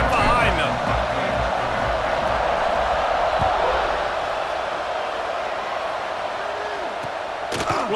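Stadium crowd in EA Sports College Football 26 keeps up a steady, loud roar before a kickoff on wet turf, a dense wash of noise holding through the whole stretch with a few sharp thumps near the start.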